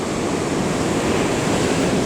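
Heavy ocean waves break onto the beach at a river mouth at the south end of a bay during high tide, a loud continuous wash of surf and roar with no pauses and no voices.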